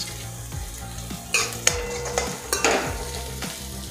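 Onion frying in a pan for hotel-style paneer chilli: a steady close sizzle broken by several sharp bursts as a spatula clanks and scrapes against the pan, over a low humming drone.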